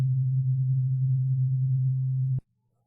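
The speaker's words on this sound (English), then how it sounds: "you're going to hear a sine wave" An analog modular synthesizer oscillator produces a steady, pure sine tone, held loud and unchanging for over two seconds before cutting off abruptly with a small click.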